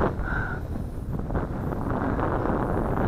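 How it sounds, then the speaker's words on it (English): Strong gusting wind buffets the microphone around a flying FY326 RC aircraft, a steady low roar with no voices. "Wind blowing it back."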